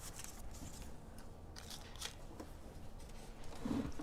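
Scissors trim paper for a Christmas mixed media craft, giving quiet, close snips and rustling paper crinkles spread over a few seconds.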